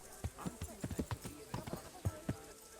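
Horse hooves clip-clop in an irregular walking rhythm in the medieval video game Kingdom Come: Deliverance, a string of soft thuds close by and fairly quiet with faint talk in the background.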